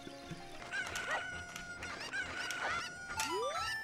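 Cartoonish chicken clucks and squawks repeat over a steady electronic hum, with a rising whistle-like tone near the end, like game sound effects.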